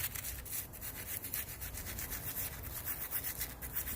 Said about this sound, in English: Just with this brush right here, just got it and started scrubbing on it.